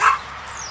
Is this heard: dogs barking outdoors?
yes